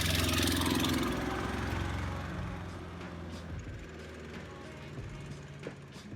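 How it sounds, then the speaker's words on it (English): A small vehicle with a lawnmower-like engine passes on a street in Portugal. Its buzzing motor is loud and close at first, then fades as it moves away, with faint background sounds after. "Does it have a lawnmower engine in it?"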